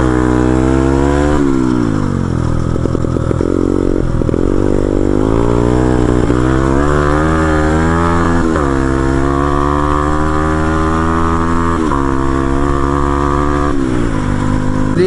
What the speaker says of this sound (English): So I've got this thing turbocharged now.